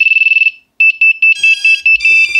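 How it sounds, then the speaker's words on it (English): An FPV drone from Axis Flying beeps repeatedly at power-up with no GPS lock, starting with a fast burst of short tones, a brief pause, then a steady run of loud, evenly spaced electronic beeps up close. "We got lots of beeping because there's no GPS"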